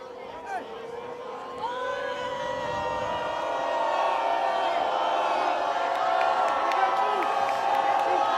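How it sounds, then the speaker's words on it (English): A Durfee high school football crowd roars and cheers during a game against Brockton, the noise swelling steadily louder into a sustained, dense wall of whoops and shouts. "Durfee crowd getting loud here."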